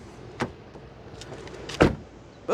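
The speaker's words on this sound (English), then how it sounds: "Boom! The doors are nice and heavy." Door of a 2025 Jaguar F-Pace R-Dynamic S closing, a heavy, solid thud near the end after lighter clicks and handle sounds, close and alone with no talk.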